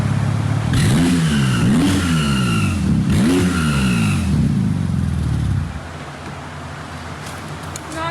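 The engine of a wrecked Porsche 911 Turbo revs hard several times up close, rising and falling in loud sweeping bursts, then settles into a steady idle.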